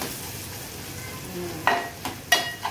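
Masala spices sizzle in a pan, a steady soft frying hiss broken by a few sharp crackles and clinks of stirring near the end.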